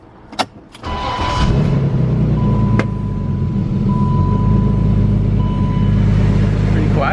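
A car engine fires up for the first time after a rebuild: a starter catch, then a steady low idle that runs smoothly and fairly quietly, with a faint whine on top.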